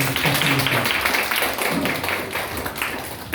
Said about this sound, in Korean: 수고해주신 우리 박노상 대표님께 박수 한번 다시 한번 부탁드립니다